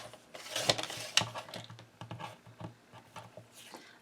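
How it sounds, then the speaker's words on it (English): Paper pieces being trimmed down to size for a handmade mini album, a run of short crisp cutting and tapping sounds of varied loudness, close by, with no talking. "I'm going to cut it down to 3 inches, and then cut this to 3 3/4"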